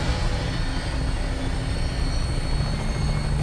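An aircraft in Fallout 4 lifts off with a steady, loud engine drone and rotor-like rumble that holds constant throughout, with no voices.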